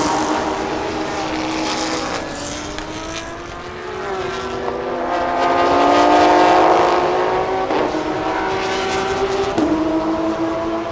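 A Porsche race car powers out of a tight corner onto a long straight at a Thailand Super Series circuit, its engine note rising and sweeping upward loudly and steadily, with other engine tones layered underneath.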